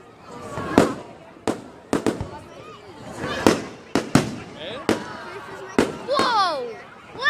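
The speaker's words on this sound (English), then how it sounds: "Pretty neat fireworks here." Fireworks burst one after another in sharp, loud cracks, some followed by whistling or crackling trails, with about eight separate blasts at uneven intervals and people's voices reacting between them.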